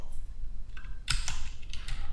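Someone types on a computer keyboard, a few irregular clicks and short tapping bursts close by over a steady low background hum.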